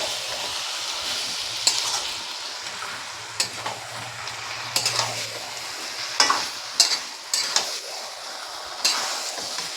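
Mutton kosha with kasuri methi is stir-fried in a pan, a continuous close sizzle broken by irregular scrapes and sharp metallic clinks of the spatula against the pan.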